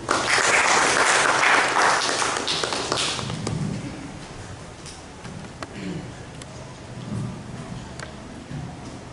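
Congregation applause in a church during a Sunday service, a dense wash of clapping loudest at the start and thinning out over several seconds, with some low voices murmuring underneath.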